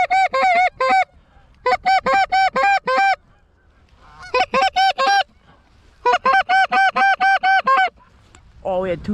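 Geese honk loudly in bursts of rapid repeated calls, flock after flock, during a goose hunt in a blizzard, with brief pauses between groups and a voice faintly at the end.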